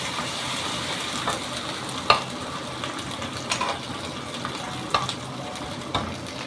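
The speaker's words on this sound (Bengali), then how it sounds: "সব একসাথে ভালো করে কষাবো।" Spices sizzling in a pan for Bengali katla kalia fish curry, a continuous frying hiss broken by occasional sharp clicks of stirring against the pan, no voices.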